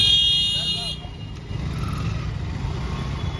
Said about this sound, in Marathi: पूर्ण ट्रॅफिक आहे तुर्बेला.